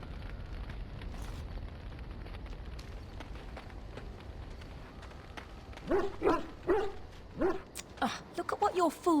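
A dog barks in the Dragon Age Origins video game, with a rapid run of short, loud barks near the end over continuous ambient game sound.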